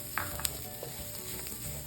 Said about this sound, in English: Saute our coriander and turmeric.